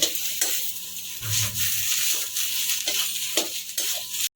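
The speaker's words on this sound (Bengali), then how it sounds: "এবার এর মধ্যে দিয়ে দেবো কুচানো ধনে পাতা" Spiced potato filling with chopped coriander leaves being stirred in a wok, a steady sizzle broken by repeated scraping strokes at an even rhythm, close and fairly loud with no talking.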